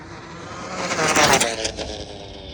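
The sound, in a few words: Traxxas XO-1 RC car passing by at about 108 mph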